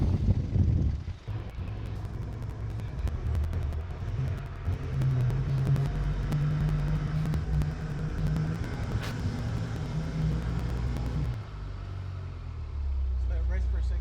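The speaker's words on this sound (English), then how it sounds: "and then we're going to wind it up." A winch winds synthetic rope under tension while hooked to a car's winching point, giving a steady motor drone and whine that runs for most of the stretch and then drops off near the end, with a low rumble remaining.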